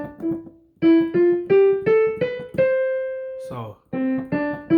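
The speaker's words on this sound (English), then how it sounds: "We're first gonna start with the piano scale." A piano plays a rising scale starting at C, about eight distinct notes in an even stepwise rhythm, close and clear, followed by a brief glide and a few more notes.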